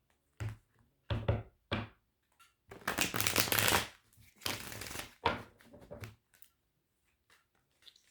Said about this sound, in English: So we'll do 3 clarification cards on that.